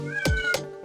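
Two short meows from cats in the background, each a quick rising-and-falling cry, heard close over a steady low electrical hum with no talking.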